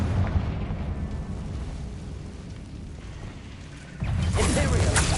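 Confringo spell blast in the Hogwarts Legacy video game, a low rumbling burst with a sudden louder whooshing explosion near the end, over a continuous noisy game background.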